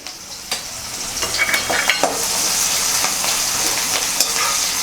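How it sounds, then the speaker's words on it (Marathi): Onion and curry leaves fry in hot oil with asafoetida for a sweet corn chivda tempering, giving a steady close sizzle with crackling pops and stirring scrapes throughout. "2-3 कढीपत्त्याचे पाने व कांदा आपण यामध्ये आता तेलात परतून घ्यायचा आहे।"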